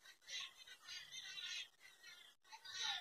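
Crows caw in harsh, repeated calls from some distance, fairly faint, several overlapping squawks in a row.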